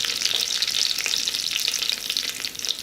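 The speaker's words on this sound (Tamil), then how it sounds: "பெருஞ்சீரகம், சீரகம் இது எல்லாத்தையும் உள்ளே ஆட் பண்ணிக்கலாம். சும்மா ஒரு 2-3 செகண்டு ஃப்ரை பண்ணி முடிச்சதுக்கப்புறமா" Fennel and cumin seeds fry in hot oil with a bright, crackling sizzle, steady and close throughout, no voices present.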